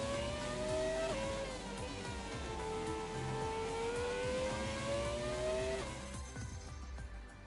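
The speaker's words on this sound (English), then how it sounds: "car sounds way better than the modern ones." A classic Formula 1 car in the F1 2017 racing game revs hard and loud, its high engine note climbing through repeated gear shifts before dropping off near the end, with no talking.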